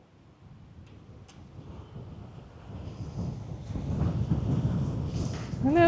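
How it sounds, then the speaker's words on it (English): A big gust of wind sweeps in beside a MacGregor 26M sailboat, a low rumble that swells steadily louder and peaks at the close. "big gust of wind"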